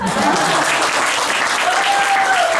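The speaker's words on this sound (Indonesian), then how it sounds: "Kok tepuk tangannya cuma segitu ya?" Steady applause from a church service congregation, dense and fairly loud, continuing evenly throughout with no talking over it.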